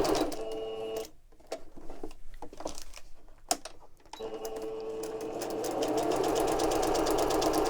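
Sewing machine stitching along the bottom edge of a folded ephemera piece, with a close mechanical whir and rapid needle chatter, pausing for a stretch of quieter handling clicks before starting up again and running steadily.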